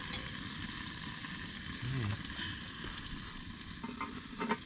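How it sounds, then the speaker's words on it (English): Food sizzles steadily in a hot pan over a campfire, a constant crackling hiss heard close up with a few brief louder pops and stirring sounds. "Can you hear it sizzling?"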